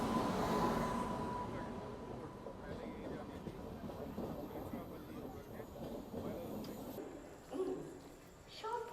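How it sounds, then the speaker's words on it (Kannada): The Mysuru–Cuddalore Port Express rolls through a railway station with a faint, continuous rumble of wheels and carriages, heard at a distance, while voices murmur nearby and a brief sharper clatter rises near the end. "ಮೈಸೂರು ಕಡ್ಲೂರು ಪೋರ್ಟ್ ಎಕ್ಸ್ಪ್ರೆಸ್ ಬಂತು ನೋಡ್ರಿ"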